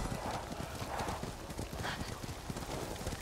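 Horse hooves clip-clop in a steady galloping rhythm while riding in the video game Ghost of Tsushima, close and continuous, with no talking.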